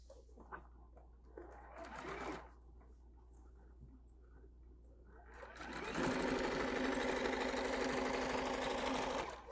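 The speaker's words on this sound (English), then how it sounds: "Let's go ahead and keep on sewing." A sewing machine stitches a quilt-as-you-go table runner, a steady fast whirring hum running loud and close through the second half, preceded by brief rustles and quieter handling sounds.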